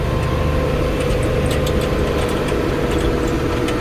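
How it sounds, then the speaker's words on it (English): The small engine of a field-spraying vehicle drones steadily and loudly at close range, a constant unbroken hum with no talking. "little scooter's just motoring right along, purring like a kitten"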